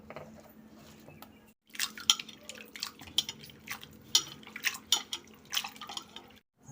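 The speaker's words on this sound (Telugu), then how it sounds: "ఈ వాటర్లోనే మనం తరిగి పెట్టుకున్న బంగాళదుంప ముక్కల్ని వేసుకొని ఒకసారి కడుక్కుందాం" Cut potato pieces get swished and rinsed by hand in a bowl of salted water, giving a close series of splashes, drips and light clinks after a brief quiet start, with no talking.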